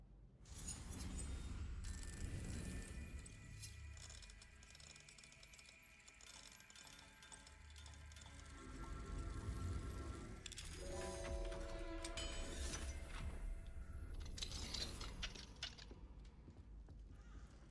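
An Alohomora spell unlocks a lock in a video game: a long stretch of shimmering metallic clinks and mechanical ringing tones over a steady low rumble, shifting partway through into a brighter chiming mechanism.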